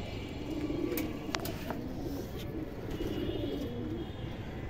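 A caged Indian kaldom highflyer pigeon calls in soft, low coos that repeat faintly over a steady background hiss, with a few sharp clicks.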